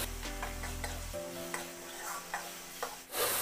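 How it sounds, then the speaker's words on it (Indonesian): Spices and herbs, bay leaves, lime leaves, turmeric leaf and lemongrass, fry in a pan while being stirred, giving a soft continuous sizzle with repeated light scrapes at a steady pace, close but fairly quiet, without speech. "Kita aduk rata lagi."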